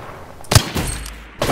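A shotgun fires in the video game Apex Legends with a couple of sharp, punchy blasts and short decays, set against low background game noise.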